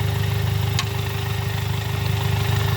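A car engine with a DSG seven-speed gearbox idles steadily during a clutch test on the second clutch in gear two, a constant low hum with a faint brief click, no talking.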